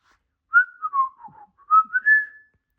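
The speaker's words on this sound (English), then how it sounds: "She practices her whistles when she colors" A person whistles a short melodic phrase alone, two clear rising and falling runs of notes separated by a brief pause, close and fairly loud against silence.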